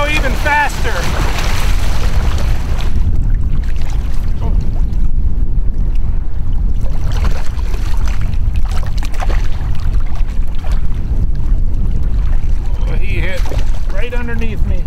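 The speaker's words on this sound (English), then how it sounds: "I'm using the torpedo motor in conjunction with my paddling to go even faster." A kayak moves under paddle power combined with a torpedo trolling motor on a bay outing. Water rushes constantly with wind buffeting the microphone, while paddle splashes and faint scattered knocks ride over the steady rumble.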